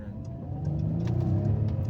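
Citroen C6 with a 3.0-litre petrol engine, downshifted into first gear in manual mode, revving up with a rising, raspy offbeat engine note that builds steadily close by.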